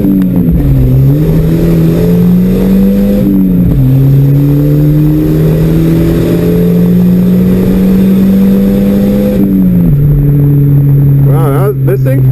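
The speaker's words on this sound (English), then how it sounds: "here I'll pin in first and then go like second to third" Volvo 740 turbo wagon accelerating hard through the gears, its engine note climbing loud and close with two clear drops at the upshifts from first into second and third, under a steady cabin drone.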